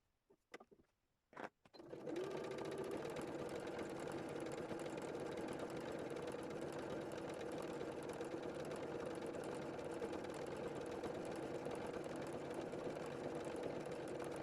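A sewing machine stitches free motion embroidery on an art quilt made from Gelli printed fabric scraps, running steadily and loudly after a couple of brief handling knocks at the start, with no talking.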